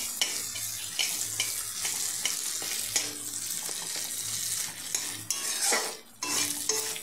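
Poppy seed paste with ginger is sautéed in a pan, a spoon scraping and clinking against the metal in uneven strokes over a continuous light sizzle, close and fairly quiet.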